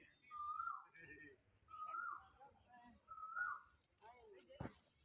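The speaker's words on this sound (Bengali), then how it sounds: "কি সুন্দর পাখির ডাকও শোনা গেছে" Birds call near a riverside temple, with several whistled chirps in short phrases and a faint, thin sound.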